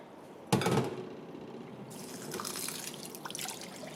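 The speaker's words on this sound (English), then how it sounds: "we need to rinse it with the water first before we steam it" Sticky rice is rinsed with water in a basket: a sudden close splash of poured water, then lighter trickling and dripping with intermittent small sloshes as the grains are handled.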